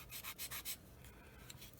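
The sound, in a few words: sanding stick rubbing plastic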